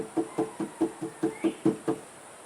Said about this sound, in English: I'll knock it, it'll go down with gravity